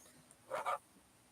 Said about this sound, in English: Did I hear you bark, dog?